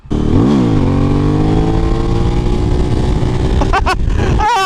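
A Suzuki V-Strom 1000 motorcycle with traction control off revs hard for wheelies, its engine note rising and holding loud and close before a quick burst of higher rev blips near the end.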